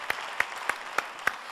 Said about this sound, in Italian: Un applauso facciamo al balletto.